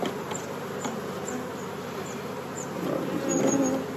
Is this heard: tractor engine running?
no